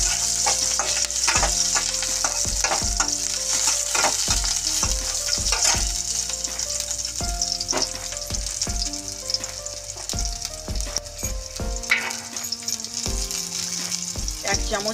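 Green chillies stir-frying in a pan, a steady loud sizzle broken by repeated scraping strokes of a spatula at an even rhythm, close up and alone without talk.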